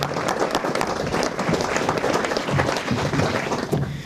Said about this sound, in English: could I hear a round of applause for Ranger Oil?